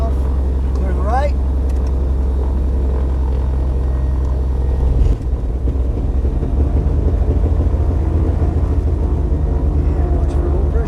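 The right engine of a Beech Baron cranks and catches, its steady droning roar loud and close throughout, with a brief surge midway, while a person speaks over it.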